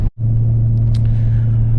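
A car rumbles over a corrugated gravel road on Cape York, giving a dense, steady low drone with a brief dropout near the start and faint rattles on top, loud and close.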